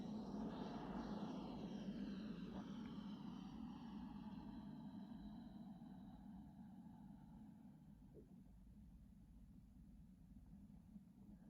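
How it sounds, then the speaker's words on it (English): A Boeing C-17 Globemaster III jet overflies the airfield at an airshow demo, its engine roar steady and loud at first, then fading gradually as it passes, with no talk. "The C-17 will now overfly the field to prepare for landing."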